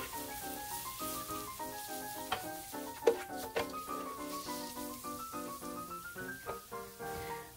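Chicken pepper fry masala powder sizzles in a pan while a spoon scrapes and stirs in irregular strokes, under soft background music.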